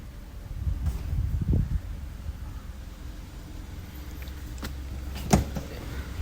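A 2015 Maruti Swift petrol car engine turns over and settles into a steady low idle rumble, with a brief louder surge early on and a sharp click near the end.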